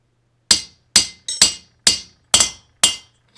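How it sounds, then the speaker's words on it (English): Six sharp metallic taps, evenly spaced and close, as a 5/8 socket drives a new bearing into a Federal Signal Model 2 siren, each ringing briefly before fading. "Use your 5/8 socket. And just tap it down."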